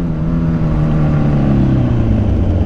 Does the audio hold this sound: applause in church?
no